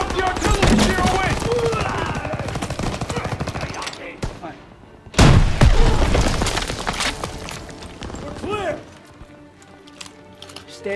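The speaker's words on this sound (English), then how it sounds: "You get up the artillery and clear away!" Artillery shells burst in a Call of Duty WW2 battle, with heavy booms and rattling gunfire crowding together, a sharp loud blast near the middle, and voices shouting over the combat.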